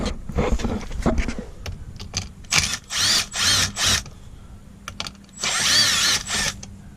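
A power drill whirs in several short bursts and one longer run while removing screws from a Dodge Ram seat cover during a seat heater repair, close and loud, with clicks and handling noise between bursts.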